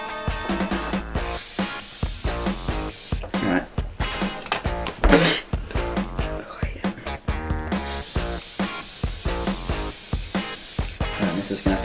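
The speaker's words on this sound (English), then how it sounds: "Right, hairspray." Hairspray sprayed onto hair from a can in repeated short hissing bursts, close and fairly loud, mixed with people talking and other room noise.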